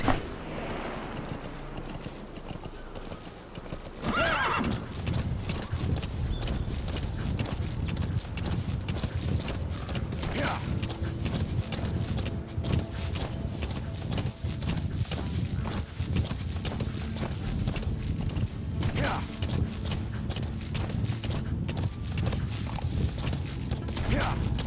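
Horse hooves gallop in a steady, continuous clip-clop in Metal Gear Solid V: The Phantom Pain, with mechanical clatter and other game sounds mixed in throughout.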